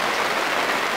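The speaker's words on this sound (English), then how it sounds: "What do you think of all this rain?" Heavy rain falls steadily and densely, a continuous broadband hiss of drops pattering on surfaces, close and fairly loud with no voices over it.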